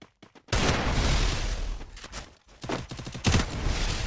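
Loud rapid gunfire bursts from a PC shooting game during a tournament quarter-final, with dense automatic volleys, short gaps and renewed fire, close and with no voices.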